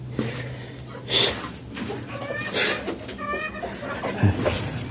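Hungry desi chickens let out of their coop cluck close by in short bursts, with a rooster-like call among them. Rustling and low background noise carry underneath.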